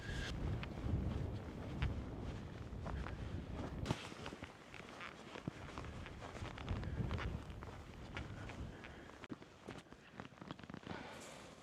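Strong wind buffets an open hillside on Dartmoor, a steady rushing roar with gusty microphone rumble and scattered clicks and rustles of nearby movement throughout.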